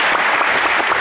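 A studio audience claps for a contestant on a television quiz show, a dense, steady burst of applause filling the whole short stretch with no voices over it.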